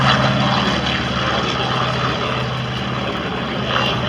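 A propeller aerobatic airplane flies at a world aerobatic championship air show at Châteauroux, its engine a loud, steady droning roar that holds throughout with no talk.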